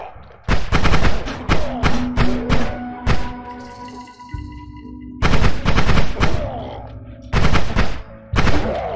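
Heavy gunfire from a big weapon in the video game Noita, loud repeated bursts of blasts in clusters with short gaps, a sustained tonal hum sounding between volleys.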